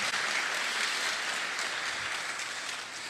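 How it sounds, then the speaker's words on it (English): Conference audience at a tech community event's opening ceremony claps for the organizing team, a loud, even wash of applause that holds steady before easing slightly at the end. "let's give a big round of applause to the team who made this possible"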